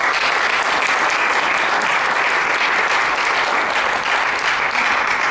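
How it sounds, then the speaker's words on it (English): Sustained audience applause at a live therapy talk and demonstration, dense and steady throughout, loud and close with no pauses or voices breaking through. "Give a round of applause."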